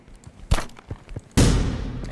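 A sudden loud blast from an enemy explosion in the video game The Final Station, booming and decaying over about a second, preceded by a sharper burst and small thumps from gameplay action.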